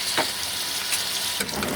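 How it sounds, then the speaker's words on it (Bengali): Shrimp and onions frying together in hot oil for a cabbage and shrimp dish, a steady broadband sizzle running the whole time with a couple of brief stirring scrapes, close and continuous with no talking. "চিংড়ি মাছ আর পেঁয়াজগুলোকে একসাথে ভেজে নেব।"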